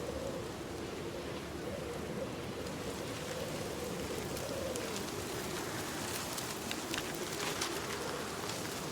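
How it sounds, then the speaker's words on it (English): Rain in the video game Project Zomboid, a dense, steady hiss and patter filling the whole stretch, with a low rumbling wash underneath. "What the heck is that noise? That's the rain? Such a strange noise."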